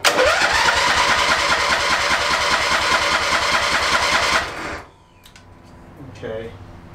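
The motor on a homemade tow-behind backhoe cranks loudly and continuously for several seconds without catching, then stops, leaving quiet clicks and a faint voice.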